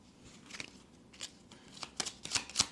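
Tarot cards shuffled by hand nearby, heard as a few soft, quiet riffling swishes that grow crisper and denser toward the end, with no voices.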